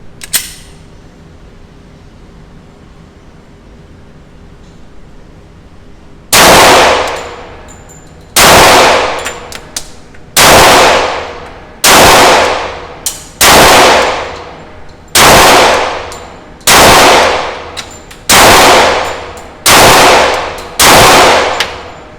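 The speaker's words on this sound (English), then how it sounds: "So here's another 10 rounds fired." Ten loud shots from a 10mm Glock 20 pistol at an outdoor range, evenly spaced about two seconds apart, each a sharp crack with a decaying ring, after a few seconds of quiet background.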